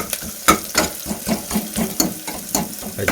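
Field beans (avare kalu) frying in a pan, a steady crackling sizzle broken by rhythmic scraping strokes as they are stirred, close and fairly loud.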